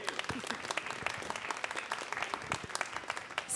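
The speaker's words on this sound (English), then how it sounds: "You guys can give a round of applause for that." Applause from an audience at a Boston poetry event, fairly quiet and somewhat distant, with scattered sharp claps standing out over a thinner crowd sound that carries on throughout.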